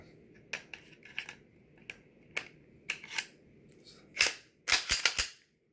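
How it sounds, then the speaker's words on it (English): The slide of a Glock 29SF 10mm pistol being handled and slid back onto the frame, giving a run of sharp metallic clicks and scrapes that build to a few louder, close snaps near the end, with no talking. "Slide it back on, perfect, good to go."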